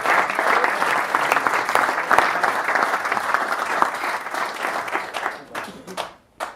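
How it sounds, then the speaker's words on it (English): A dinner crowd at a golf prize giving applauds, sustained close clapping that gradually thins and fades toward the end, with a bit of faint chatter mixed in. "a wee round of applause again for Brian Just Stevie"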